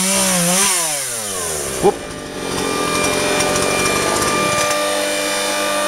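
A Husqvarna 236 X-Torq chainsaw revs up and down close by during a garden cleanup, its engine pitch rising and falling, with a brief sharp exclamation partway through.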